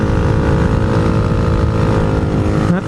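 Honda Grom motorcycle engine droning loud and close while riding, a steady buzzing pull with no speech over it.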